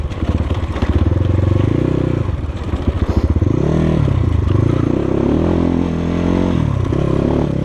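A Kovi Lite 300 KT Chinese enduro motorcycle is ridden close by, its single-cylinder engine rattling and revving up and down with some clatter as it picks up speed.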